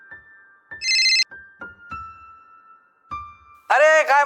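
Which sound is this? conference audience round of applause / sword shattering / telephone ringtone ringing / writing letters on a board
telephone ringtone ringing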